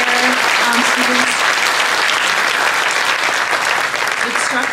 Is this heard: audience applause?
yes